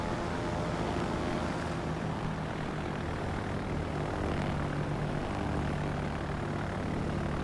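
Propeller planes in the naval battle game World of Warships give a continuous droning engine roar that stays loud and even throughout, with no speech over it.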